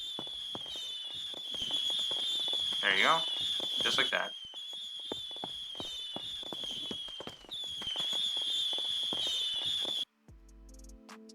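Fireworks in the Core video game crackle and pop in a dense, continuous spray of small bursts over a steady high whistling tone, with a couple of rising squeals, while someone talks over them before it cuts off.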